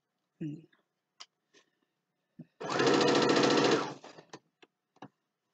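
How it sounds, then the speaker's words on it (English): A sewing machine stitches fabric in a single steady burst of about a second and a half, with a few sparse clicks and handling taps before and after in an otherwise quiet room. "You want to make sure you don't accidentally sew something you don't want to sew."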